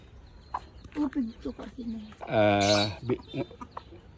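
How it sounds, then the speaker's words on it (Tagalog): A hen with her chicks in a new coop, close up: soft clucks and peeping come in short bursts, with one louder, drawn-out hen call in the middle. "Nandito na si Kulay at ang kanyang mga sisiw sa bagong kulungan."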